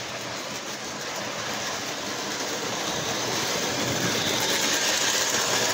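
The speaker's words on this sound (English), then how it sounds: "the nice thing about the newer model trains. They run quieter." A newer dual-motored model train runs steadily along its track, a smooth continuous whirring hum with a soft rolling rattle that grows slightly louder.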